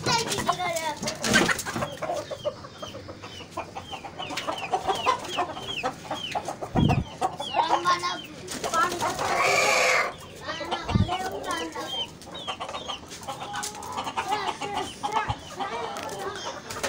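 Several chickens, many of them roosters, cluck and squawk in a cage nearby, busy and overlapping, with occasional louder flaps and agitated calls.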